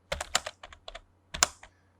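Keys tapped on a computer keyboard entering the CHA chamfer command in AutoCAD, then Enter pressed: a quick run of close, crisp clicks, a pause, then a firmer final keystroke cluster.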